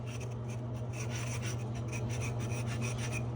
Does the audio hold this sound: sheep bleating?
no